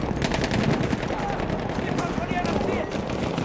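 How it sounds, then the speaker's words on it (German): Sustained automatic machine gun fire from Battlefield 1 on the Ballroom Blitz map rattles loudly and continuously, with dense overlapping battle noise and voices shouting in the background. "Ein Maschinengewehr!"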